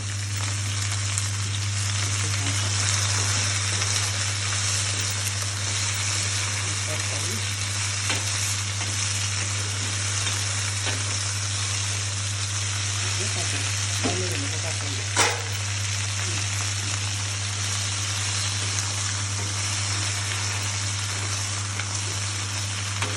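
Aloe vera fries in hot oil with a constant, loud sizzle and crackle, broken by occasional sharper pops and the scrape of stirring, over a steady low hum.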